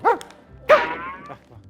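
Two short, hoarse Boston terrier barks with a grunting, pig-like quality, close by, separated by a brief pause.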